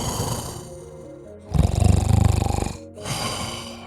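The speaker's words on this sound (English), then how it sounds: "you hear some deep, deep snores." A sleeping giant in a tabletop fantasy adventure gives a single deep, loud, rumbling snore with a rattling texture, sitting between stretches of softer background sound.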